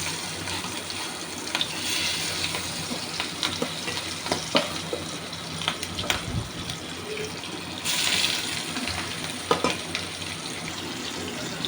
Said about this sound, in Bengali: এবার একটা একটা করে আমি ভেজে নিচ্ছি।